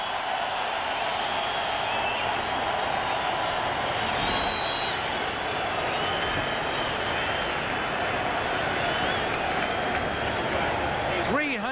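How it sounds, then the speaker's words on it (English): Stadium crowd at a 1991 Eagles at Browns football game giving a standing ovation, a steady, dense roar of applause and cheering filling the whole stretch, with a broadcaster talking over it. "the crowd gives Kosar a standing ovation"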